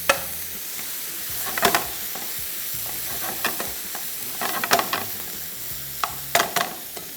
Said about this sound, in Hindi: मैं इसको दोनों को और प्याज को साथ में फ्राई करके मसाला इसका तैयार करके